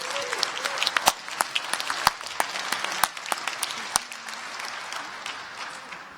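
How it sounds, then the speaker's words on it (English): An audience at a hackathon closing ceremony applauds its winners, a dense patter of clapping with a few sharp, louder claps standing out near the front before it gradually thins out. "Can we have another round of applause for our winners?"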